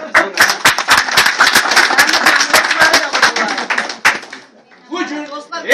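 An audience claps loudly at a poetry book presentation, with sharp, rapid hand claps that run for about four seconds before fading. Voices follow briefly after the clapping.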